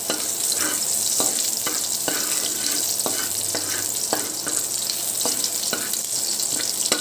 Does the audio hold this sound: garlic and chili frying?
yes